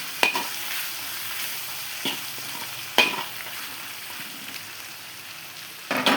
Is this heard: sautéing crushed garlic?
yes